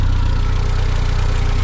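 A tuned Škoda 130 with a turbocharger idles steadily, a close, loud, even low rumble with a regular throbbing pulse and no talk over it.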